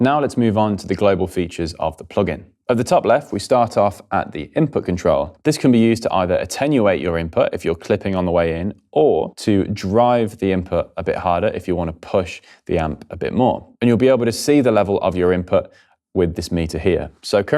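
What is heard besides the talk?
No everyday noises stand out.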